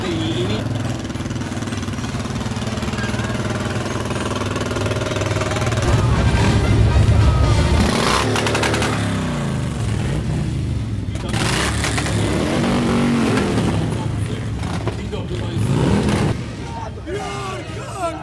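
Several motorcycle engines of Santa-costumed riders rumble and rev as they pass at close range in an Independence Day parade in Gdynia, with a crowd murmuring in the background throughout.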